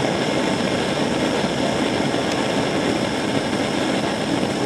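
A homemade steam boiler's safety valve vents steam in a loud, steady, continuous hiss that holds unbroken throughout, with no talk over it.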